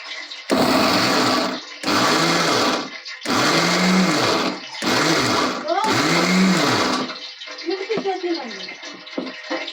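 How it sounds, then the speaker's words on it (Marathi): Mixer grinder grinding chillies, ginger and garlic for Kolhapuri vada pav kharda, run in five loud bursts with short pauses, winding down at the end, then quieter clinking and handling noises. "आपण मिक्सर लावणार आहे आता मिक्सर सुरुवात करतो"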